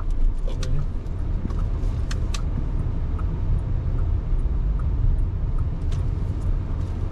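A Bentley Bentayga SUV rolls through a slow U-turn, heard from inside the cabin as a steady, low engine and road rumble. Faint birdsong chirps come from outside.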